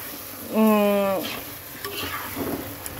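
Taro is stirred into sautéed spices in a pan, a low sizzle with light spatula scrapes, briefly overlaid by a short tonal hum or voice-like sound, close and moderately quiet.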